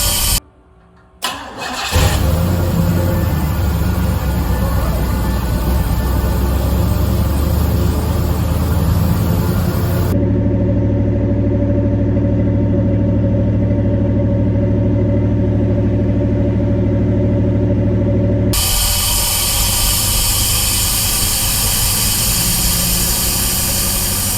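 Cadillac engine fitted with Aces running at about 1,400 RPM on a first start, a loud, steady mid-pitched drone after a brief cranking burst, changing tone partway through as the idle shifts.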